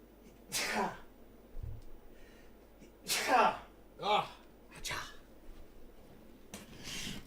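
A person sneezes about five times in close succession, each a sharp, near burst with quieter breathy gasps and snorts between them.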